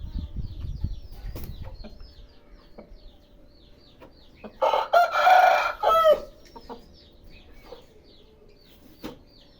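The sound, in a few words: rooster clucking while being handled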